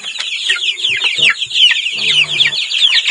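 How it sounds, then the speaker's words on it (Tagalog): Young Rhode Island Red chickens, about a month old, cheep and cluck busily on a farm, many overlapping high chirps close by and loud, with a faint bit of low clucking underneath. "we have here yung Rhode Island Red natin."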